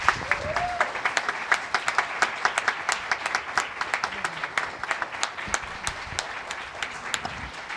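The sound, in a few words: audience applause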